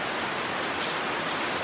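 Steady rain falls in a dense, even hiss with no gaps or talking, close and fairly loud.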